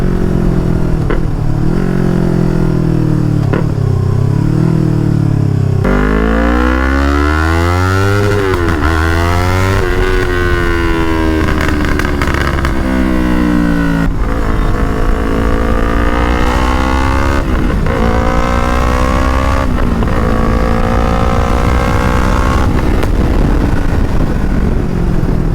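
A Yamaha R3 motorcycle with stage 1 performance mods rides through Calcutta streets, its engine revving up and down in repeated rising and falling sweeps, loud and close throughout with steady road rumble.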